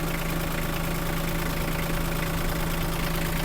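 An Iseki TG-27 Japanese mini tractor engine idles steadily and loudly nearby, a constant throbbing drone with a rattling, knocking texture and no pauses.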